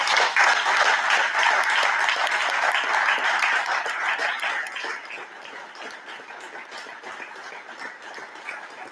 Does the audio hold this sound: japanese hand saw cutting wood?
no